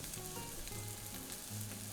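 Onions, mushrooms, green beans and potatoes fry in a pan beside bacon-wrapped filet mignon, giving a steady, soft, close sizzle with faint crackles and no talking.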